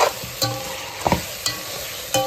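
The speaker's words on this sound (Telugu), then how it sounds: "ఇప్పుడు 1/2 కిలో చికెన్ అండి వేస్తాను దీంట్లో." Half a kilo of raw chicken tipped into hot, well-fried masala for a chicken biryani, giving a close, steady sizzle with several sharp scraping stirs of a spoon against the pan, no voices.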